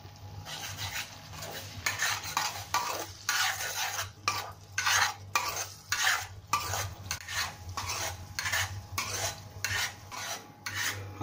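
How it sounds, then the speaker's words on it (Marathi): A spoon stirs and sautés a pav bhaji mixture with green chillies in a pan, scraping steadily against the metal in repeated strokes over a low sizzle, close and fairly loud with no talk. "परतून घेऊया."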